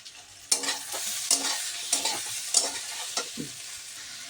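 A utensil scrapes and stirs chili powder and spices in a hot pan, making repeated sharp strokes roughly every half second over a faint sizzle, close and clear with no talking.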